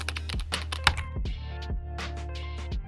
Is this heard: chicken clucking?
no